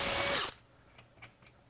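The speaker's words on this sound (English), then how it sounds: "and we'll drill that out." A power drill whines loudly for about half a second drilling out a battery mount post on a chassis, then cuts off, leaving a quiet room with a few faint clicks.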